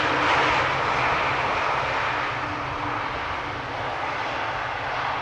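Airliner landing at Amsterdam Schiphol with thrust reversers deployed, a steady loud broadband jet roar sustained throughout without talk.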